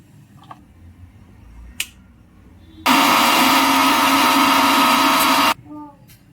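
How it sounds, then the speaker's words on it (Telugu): A mixer grinder blends tomatoes into a smooth paste for dhaba-style chicken curry. After a few small clicks, the motor roars loudly and evenly for about three seconds, then stops abruptly, followed by a brief faint voice. "మిక్సీ జార్లో టమాటాలు వేసుకొని మెత్తగా పేస్ట్ చేసుకోవాలి."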